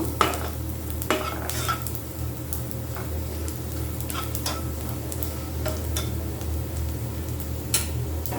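Steady sizzling of spices and nigella seeds frying in a hot pan, with occasional sharp scrapes and clicks of stirring. No one speaks.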